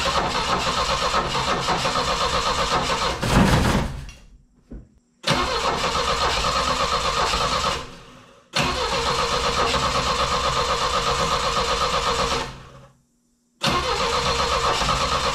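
Car engine with a poor carburettor and sticking choke, repeatedly started and run: loud, rough running broken by several sudden cut-offs and silent gaps, then firing up again, close by and with no talk.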